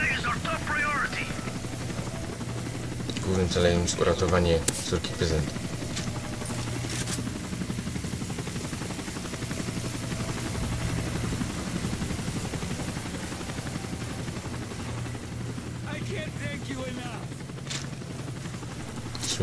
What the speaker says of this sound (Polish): Śmigłowiec będzie nam tylko przeszkadzał, dlatego trzeba go zestrzelić.